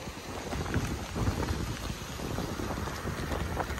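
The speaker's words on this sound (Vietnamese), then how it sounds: "Sóng đánh lên." Sea waves wash and churn over rocks at a fishing harbour in La Gàn, Tuy Phong, Bình Thuận, Vietnam, with a continuous broad rushing, windy roar close to the microphone.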